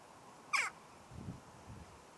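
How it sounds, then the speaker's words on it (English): Crows caw from a passing flock outdoors: one sharp, fairly close caw followed by two fainter, lower calls, over a quiet background hiss. "there's been huge flocks of crows flying by"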